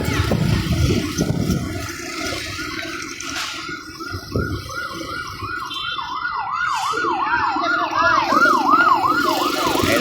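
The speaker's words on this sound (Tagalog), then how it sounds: "Ayun na po ang bumbero, ayun na po." A wailing fire truck siren rises and falls repeatedly at a fire, growing louder over a noisy street background with brief bursts of commotion.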